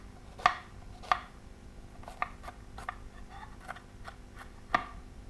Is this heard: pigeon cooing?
no